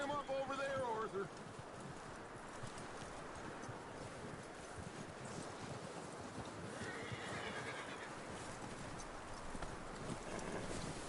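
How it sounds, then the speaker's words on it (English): Horse hooves clip-clopping in a Western video game, joined by neighing and whinnying, with continuous in-game activity and talk layered over the hoofbeats. "That looks like a decent horse."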